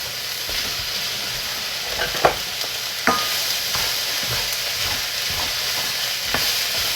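Pork stir fry being stirred in an oiled pan, with a steady broadband sizzle and scraping spatula strokes, a few sharper clacks near the middle, close and alone with no talk.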